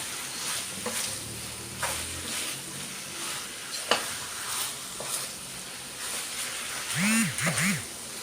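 Vegetables stir-fried in a hot pan for pad see ew, a steady sizzle with repeated scraping and stirring strokes, close by, and a few brief clattering knocks along the way.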